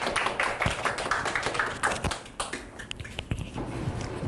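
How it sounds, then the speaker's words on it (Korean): Audience clapping for a teacher at a summer-break class information session, a fairly close patter of several hands with uneven, sharp individual claps standing out as it continues. "박수 한번 주십시오."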